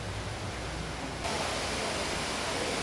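The Golden Falls, an underground cave waterfall 9 m high and 85 m wide, gives a steady broadband rush of falling water that swells in loudness partway through and then holds.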